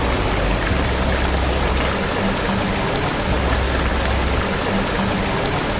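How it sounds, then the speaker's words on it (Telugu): A babbling stream flowing through Nallamala forest, a loud, dense, continuous rush and gurgle of water heard up close and alone, steady throughout with no voices. "గలగలా శబ్దం చేస్తూ ప్రవహించే సెలయేళ్ల సవ్వడి"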